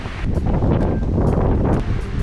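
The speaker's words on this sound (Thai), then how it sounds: "ลมแรงมากเลยค่ะ" Strong wind buffets the microphone on Mat Sum island off Koh Samui, Thailand, with a loud, continuous roaring rumble that dominates the clip.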